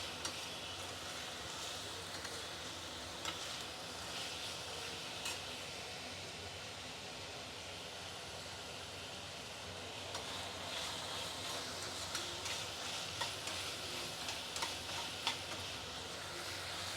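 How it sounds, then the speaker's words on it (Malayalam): Ivy gourd (kovakkai) sautéing on high flame in a pan, a steady loud sizzle with scattered stirring scrapes and clicks throughout, no voices. "ഫസ്റ്റ് ഒന്ന് ഹൈ ഫ്ലെയിമിൽ വെച്ചിട്ട് ഇങ്ങനെ നന്നായിട്ടൊന്ന് വഴറ്റി എടുത്തതിന് ശേഷം"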